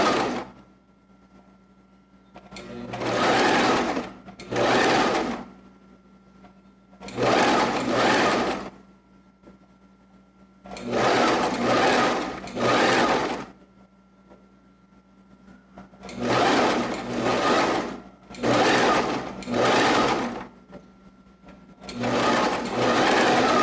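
A sewing machine stitches fabric around angles and curves for a garment neckline, running in about seven loud whirring bursts of a second or two each, separated by short quiet pauses as the fabric is turned.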